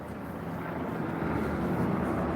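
A media helicopter circling over a street protest as barricades come down, a continuous loud rotor drone with steady low throb filling the short stretch, no talk.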